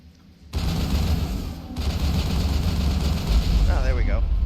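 Sustained rapid gunfire in a video game, loud and close, as a creature is shot, starting abruptly and rattling on continuously, with a brief shrill cry near the end.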